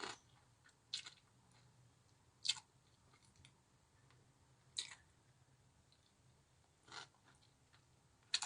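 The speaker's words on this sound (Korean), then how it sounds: "깍두기랑 같이 먹어볼게요 국수 한번 먹어볼 예정입니다." Bibim-guksu noodles eaten with kkakdugi radish kimchi: quiet close chewing with a few sharp crunchy bites spaced every couple of seconds.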